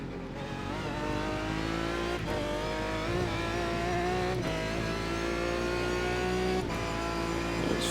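GT1 race car engine at Road Atlanta in the iRacing game, a loud continuous high-revving drone with brief dips at each upshift, steady throughout with no talk.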